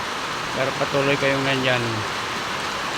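Steady rain pours down in Bangued, Abra, a constant hiss heard close by, while a person speaks briefly over it.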